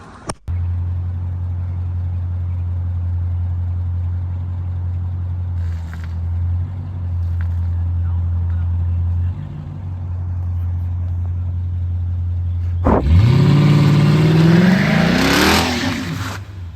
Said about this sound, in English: Start off with a burnout. You gotta spin them first.